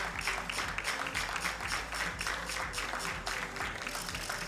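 Spectators at a junior mixed-team 10m air rifle final in Wroclaw, Poland, give sustained rhythmic clapping, dense and even, heard from inside the shooting range with no talk.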